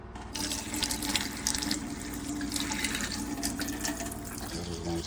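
Coffee pours from a large double-walled 304 stainless steel French press in a steady, continuous liquid stream. It sounds close and fairly even for several seconds, with no talking over it.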